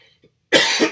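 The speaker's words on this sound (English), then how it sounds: "Excuse me for the cough." A single sharp cough bursts out close to the microphone, loud and short, with a quick second push at the end, right after a quiet pause in a math lecture.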